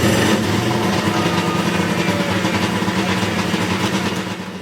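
A Kawasaki STX 1100 Di jet ski engine runs steadily after its first start following restoration, a loud, continuous rough engine drone close by that eases slightly at the end, with no talking.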